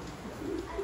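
A breeder pigeon shipped from Belgium gives a soft, low coo during unboxing, a short murmuring call heard close up and fairly faint.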